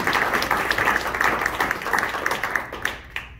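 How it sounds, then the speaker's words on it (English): Audience applause fills a room at a live stand-up comedy show, a dense, steady burst of clapping that starts at full strength and thins out near the end. "can you give a round of applause to my friends and family who paid to see me tonight"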